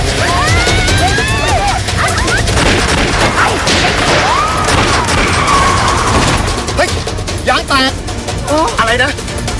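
Gunfire erupts during an ambush in a Thai comedy drama, loud cracks and thumps mixed with shouting voices and chaotic crashes throughout, dense and continuous.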